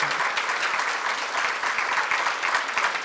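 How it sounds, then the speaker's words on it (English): Steady, dense audience applause fills the room for a community forum panel and its moderator, many hands clapping loudly and continuously from start to end with no talk over it. "give our panel and moderator a big round of applause"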